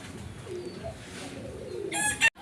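Boro Para pigeons, a large fancy breed, coo softly in a low, murmuring tone, faint and somewhat distant under quiet background noise, ending with a brief sharp knock.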